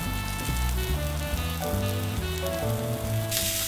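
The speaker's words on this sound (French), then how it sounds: "Dès que la poêle commence légèrement à fumer, on peut mettre son filet ou sa viande." Beef fillet sears in a hot, lightly smoking oiled pan, giving a steady close sizzle that runs the whole time beneath tonal background music.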